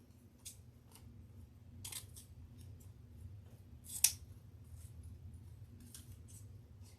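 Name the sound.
scissors trimming bee deco mesh wreath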